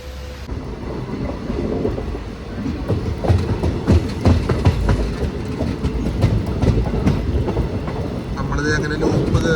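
A Nilambur–Palakkad passenger train moves from a loop onto the main line near a small station. It makes a loud, continuous rumble with rhythmic clickety-clack wheel clatter, heard close up from on board.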